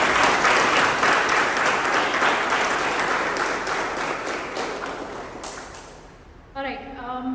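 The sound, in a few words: audience applause for the Toastmasters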